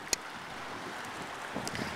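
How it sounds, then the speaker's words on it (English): Steady outdoor wind by the water rushes as a broadband roar for about two seconds, with a couple of brief louder gusts or buffets against the microphone and no voices. "It's a little windy today, so some of the videos will be better than others."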